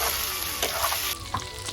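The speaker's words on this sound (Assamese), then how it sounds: "সেইকাৰণে অকণমান দেৰি মাংসটো ফ্ৰাই হ'বলৈ দিছোঁ।" Meat fries in a pan in a home kitchen, with a continuous close sizzle broken by a few clattering stirs of the spoon. No one talks.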